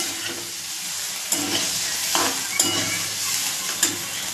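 Pasta sizzles in a pan while a spoon stirs it, scraping in several distinct strokes over a steady frying hiss.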